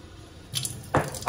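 Cold water from a tap is poured in for pancake batter in a few short, close splashing bursts over a quiet background, with no talking.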